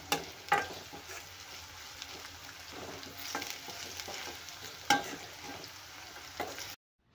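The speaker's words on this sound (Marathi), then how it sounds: "तर इथे कढई स्टीलची आहे, म्हणून मी आलं लसूण बुडाला लागू नये त्याच्यासाठी मी सतत हलवून घेत आहे।" Ginger and garlic stirred and roasted in a steel kadai for a pea and cauliflower curd curry, giving a steady low sizzle with repeated scraping strokes of the spoon and a few sharper clinks, close and without talk.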